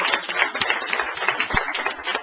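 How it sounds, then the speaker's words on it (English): An audience at a political fundraiser gives a round of applause, a brisk continuous clapping from a modest crowd heard fairly close throughout. "Give her a big round of applause."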